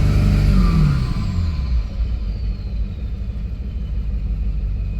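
A Ford 7.3 Powerstroke diesel truck engine with 412k miles and leaks, held at 2,500 RPM. It gives a steady, loud, close-up rumbling drone that dips slightly after an initial surge, with no talking.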